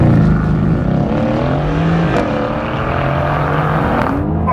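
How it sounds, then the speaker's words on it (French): A Mercedes-AMG GT S V8 launching hard under launch control, its loud engine roar climbing in pitch through rising harmonics, with a brief gearshift break midway before pulling again, close and dominant. "pour un maximum de sensations, il suffit d'utiliser le launch control"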